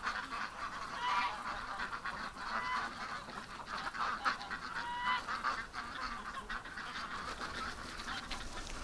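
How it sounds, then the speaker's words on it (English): A flock of ducks kept in a pen honks and quacks continuously in a dense, overlapping chorus, moderately distant and steady throughout with no pauses and no talking. "These ducks are crazy."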